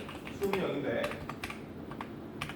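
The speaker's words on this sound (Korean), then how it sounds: "그 타자 치는 거 좀 알려주세요. 저기 동영상 찍고 있어가지고." Someone types on a computer keyboard in an office, faint scattered key clicks at an uneven pace, with a voice speaking over part of it.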